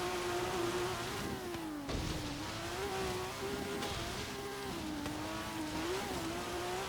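A 2016 BMW M4 GTS, rear-wheel drive with nearly 800 horsepower, driven in Forza Horizon 3: a continuous engine drone that rises and falls with throttle, including a brief dip and re-acceleration, moderately loud.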